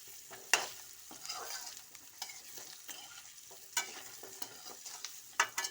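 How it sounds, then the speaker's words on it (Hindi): Vegetables sizzle in hot spiced oil during tempering while a utensil stirs and scrapes the pan, with sharp clinks scattered through the steady frying hiss. "छौंका लगा दिए सब्जी का,"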